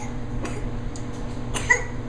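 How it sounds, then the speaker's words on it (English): A child coughs a few short times indoors, the coughs faint and brief against a low, steady room hum, with no talking. "Brother coughed, so you have to."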